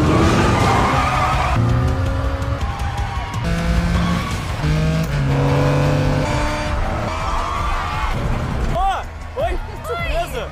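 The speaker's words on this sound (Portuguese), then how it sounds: "nunca viu uma corrida de carro, agora aqui no meu canal vocês vão ver" A car race in the film Minha Culpa, with loud roaring engines and skidding, squealing tires throughout, layered with tonal music-like sound.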